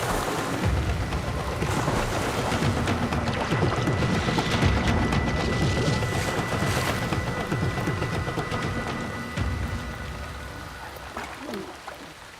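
Steady rain falling beside a river, a dense continuous patter with low rumbling underneath, fairly loud and even throughout with no talk.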